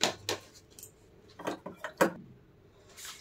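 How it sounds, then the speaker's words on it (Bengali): Grated taro being ground by hand on a grinding stone, a series of short, close scraping and knocking strokes spaced irregularly with quiet gaps between them. "গ্রেট করা কচুগুলো বেটে নিচ্ছি।"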